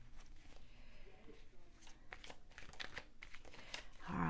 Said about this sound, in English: I'm not a fast shuffler, so you feel free to fast forward through this.